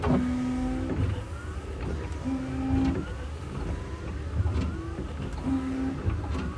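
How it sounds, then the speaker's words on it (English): Forklift windshield wipers sweep back and forth in repeated motor whirs with a squeaky tonal note on each pass, set against a steady engine hum. "One of the easy things we can check is our windshield wipers."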